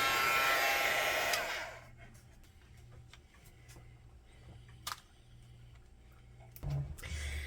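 A heat tool or hair dryer blows loudly on a mixed media journal page for about two seconds, then cuts off, leaving quiet room tone with a few light clicks and handling knocks.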